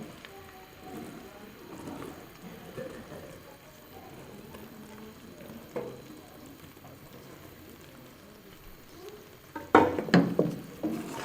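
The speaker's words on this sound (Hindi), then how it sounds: "तकरीबन 1 मिनट तक इनको भूनें" Torn pieces of leftover roti sizzle in hot ghee in a pan and are stirred, giving a steady, soft crackle with a louder burst of scraping and spattering near the end.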